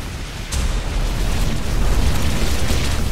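Bombing run explosions in the space strategy game Battlefleet Gothic Armada 2, starting with a sharp burst and swelling into a loud, continuous rumbling roar of blasts.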